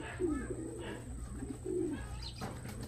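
Pigeon cooing close by at a loft as a young racing bird returns during a derby lap in Santiago, Isabela, with soft repeated coos over a steady low hum and light background noise.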